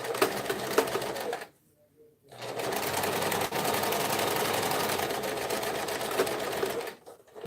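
Sewing machine stitching across the bottom of a fabric tote bag, a steady close mechanical whir running in two bursts separated by a brief pause near the start.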